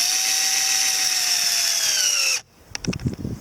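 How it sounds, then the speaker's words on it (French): A cordless screwdriver drives a screw with a loud, steady high-pitched whine for a couple of seconds, then stops abruptly, followed by a few light clicks and handling knocks. "je prends un vis, je le mets sur la visseuse"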